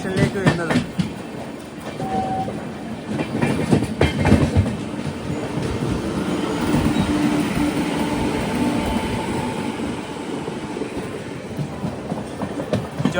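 The Himsagar Express runs on rails, heard from inside a sleeper class coach. A continuous loud rumble carries rhythmic wheel clatter and rattling throughout.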